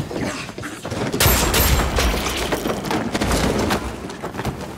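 A burst of sharp, rapid pistol gunshots in quick succession, loud and close, followed by a few more scattered shots amid echoing clatter.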